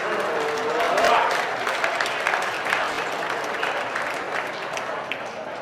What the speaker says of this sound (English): Nice round of applause for Bruce.